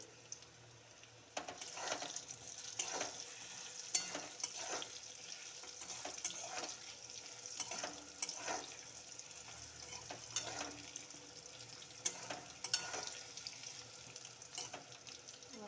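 Food fries quietly in a pan as turmeric is stirred in while cooking a spicy Bombay duck curry, a faint steady sizzle broken by soft scraping strokes, close and with no speech.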